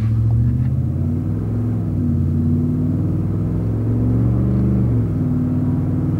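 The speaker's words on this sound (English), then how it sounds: "We're going back into first gear." A Ford car engine hums steadily at low revs while the transmission shifts gears, with the pitch stepping down once and then holding a smooth, continuous drone close by, no talking.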